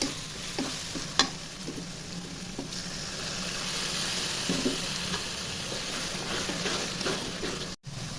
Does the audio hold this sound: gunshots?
no